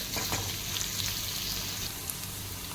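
Sliced onion frying in a hot pan for a Marathi mutton curry, a steady, close sizzle and crackle with a faint low hum underneath, continuous and even throughout with no voices.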